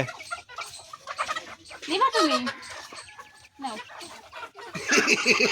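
A farm rooster clucks and squawks just after being caught, loud and close, with people talking over and between its agitated calls.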